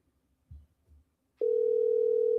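A telephone tone sounds on an outgoing call to a radio listener, a steady loud continuous tone beginning partway through after a few soft murmurs, holding unbroken to the end.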